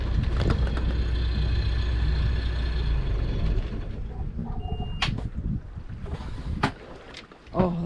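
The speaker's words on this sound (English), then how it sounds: "Engine down, revs down, and he's just going to turn it off." On a sailboat under way between Sicily and Sardinia, the engine rumbles loudly, then revs down and cuts off, leaving quieter water sounds and a few sharp knocks near the end.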